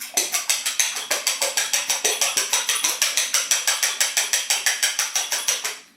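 Eggs for kougelhopf dough are whisked rapidly in a bowl, a fast, even rhythm of close, crisp clicking strokes repeating throughout without pause.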